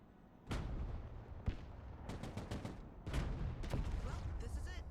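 Bursts of vehicle-mounted gunfire in the Broken Arrow video game come in several heavy volleys with short gaps, sharp and loud over a rumbling battlefield backdrop.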